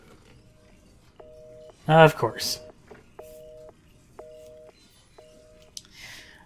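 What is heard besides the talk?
telephone being used in Resident Evil 7 video game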